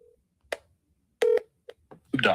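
A phone number dialed on a speakerphone to call a home seller, with a few short separate touch-tone beeps, fairly close and clear, before a voice begins at the end.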